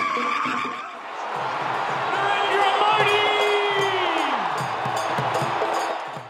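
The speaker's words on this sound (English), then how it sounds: "the crowds cheered for the Indian Prime Minister" A crowd of 20,000 in an arena cheers for the Indian Prime Minister, a broad swelling roar of voices that rises, holds loudly and then fades slightly, with scattered whistles and shouts.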